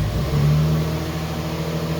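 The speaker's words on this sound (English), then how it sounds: "You can see the car started." A 2022 Toyota Tundra Hybrid's engine fires up through a remote starter, catching with a low tonal hum that settles into a steady, fairly close idle drone, with no voices.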